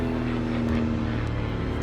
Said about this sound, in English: Sorry, there's a plane flying over.